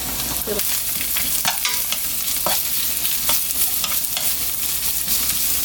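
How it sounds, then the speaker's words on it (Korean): Green onion and onion sizzle in a spoonful of oil in a round pan while being stirred, a steady close frying hiss with occasional scraping stir sounds and no speech. "자 이런 둥근 팬에다가요 자 기름을 한 스푼 넣고요 대파를 먼저 넣고 볶아볼게요"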